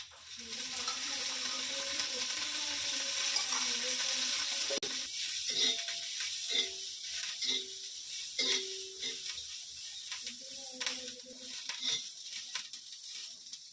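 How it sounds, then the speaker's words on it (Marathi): Fresh garden chillies fry in oil for a Maharashtrian village-style thecha, giving a soft, steady sizzle and crackle close by. Brief tonal squeaks rise over it at intervals. "मिरच्या पहिल्यांदा ड्राय रोस्ट करून घेते"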